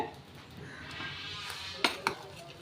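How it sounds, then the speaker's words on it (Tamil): Cooked rice and lentils for sweet pongal are mashed in a pressure cooker: soft, faint stirring and squishing, then two sharp metallic clinks of the utensil against the pot near the end. "குக்கர் திறந்து பாருங்கள் அரிசியும் பருப்பும் நமக்கு நல்லா குழஞ்சி வந்து வந்திருக்கு இது ஒரு தடவை நல்லா மிக்ஸ் பண்ணி விட்ருங்க நல்லா ஒரு மேஷ் பண்ணி விட்ருங்க"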